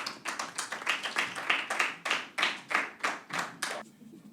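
Audience members at a voting-rights launch event clap for a speaker coming forward: a fairly faint, even run of distinct handclaps in a steady rhythm, fading out near the end.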